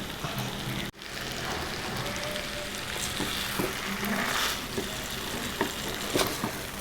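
Oil bubbling around ukkali as it cooks, a steady, dense sizzle and crackle that runs throughout, broken only by one brief click near the start.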